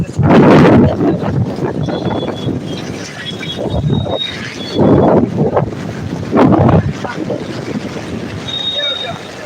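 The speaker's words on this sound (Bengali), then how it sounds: "এতটা পরিমাণে হাওয়া আসছে" Strong wind during heavy monsoon rain on flooded Mumbai streets buffets the microphone in heavy, roaring gusts that surge and fade repeatedly, loud and close throughout.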